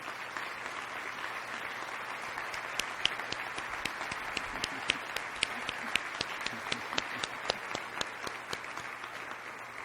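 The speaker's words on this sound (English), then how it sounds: "Let's give you a round of applause" Crowd applause for a county team at a State of the County address in San Antonio, dense and even clapping with a few sharper claps standing out, sustained throughout.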